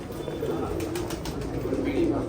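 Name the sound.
pigeons cooing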